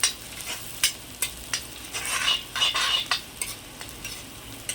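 Onions frying with a little salt in a pan for chicken sukka, heard as a close hiss with repeated sharp scrapes of a spoon stirring at irregular intervals, and no one speaking.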